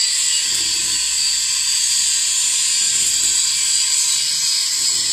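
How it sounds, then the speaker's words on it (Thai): Arc welding on a loft-style steel gate frame built from angle iron and expanded metal, giving a steady, close crackling hiss that holds evenly throughout without any voices. "กำลังเชื่อมอีกฝั่งนึงนะครับพลิกด้านใต้มาเชื่อมนะครับ"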